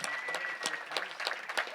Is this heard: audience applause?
yes